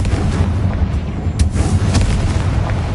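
A Confringo fire spell detonates in Hogwarts Legacy with a loud, dense rumbling blast. Low booming energy runs through the whole stretch, with sharper crackling bursts on top and no talking.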